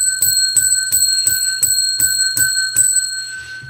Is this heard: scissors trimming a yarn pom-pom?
no